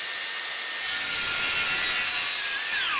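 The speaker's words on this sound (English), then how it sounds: "Now it's time for the plunge cut." A DeWalt 60V Max Flexvolt 7-1/4-inch cordless circular saw (DCS578X1) making a plunge cut into wood, the blade's whine rising as it bites in and then falling in pitch as the cut slows, loud and close with no talk.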